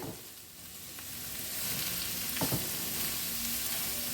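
Grated carrot and shredded cabbage sizzle steadily in a pan, with a couple of scraping stirs near the middle, close and continuous with no voices.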